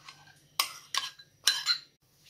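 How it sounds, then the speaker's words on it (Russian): Utensil mixing marinade into chicken thighs in a bowl, giving three sharp clinking, scraping bursts against the bowl, close and clear with no talk. "Добавляем маринад к бедрам и хорошенько перемешиваем"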